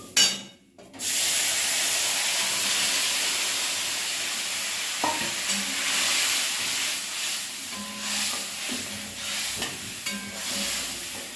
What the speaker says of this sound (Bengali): হালকা করে একটু ভেজে নেবো তারপরে এটা দিয়ে দেবো